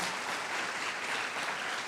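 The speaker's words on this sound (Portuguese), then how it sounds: "Uma salva de palmas a esses irmãos." A church congregation applauds together, a dense, even wash of many hands clapping at a moderate distance, sustained throughout without voices standing out.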